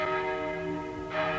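Church bells ringing out in Edinburgh, a sustained, resonant metallic peal with rich overlapping tones and a fresh strike toward the end, clear and unaccompanied.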